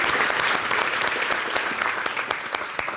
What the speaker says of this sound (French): On applaudit la maman de Marie-Ève.